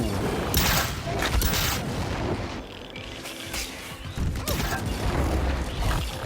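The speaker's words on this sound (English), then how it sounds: "Start firing these split warheads." Split warheads are fired in the co-op shooter Second Extinction, giving repeated booms and mechanical clanks in a dense, loud barrage that stays steady throughout.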